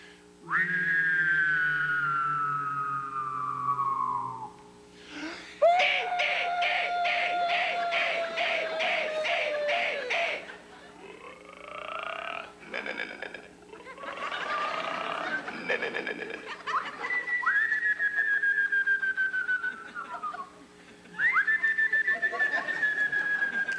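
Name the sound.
whistled imitation of a bird mating call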